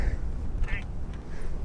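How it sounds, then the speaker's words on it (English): A duck quacks a few times at a pond in Yellowstone's geyser basin, brief and moderately distant. Steady wind and outdoor rumble run underneath. "It's a duck."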